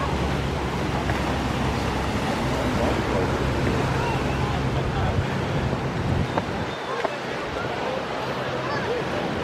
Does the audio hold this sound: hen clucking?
no